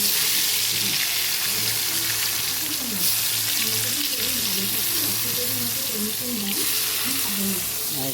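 Sliced pointed gourd fries in hot oil in a home kitchen, giving a steady, dense sizzle that runs unbroken from start to finish at a fairly loud, close level, with faint background hum beneath.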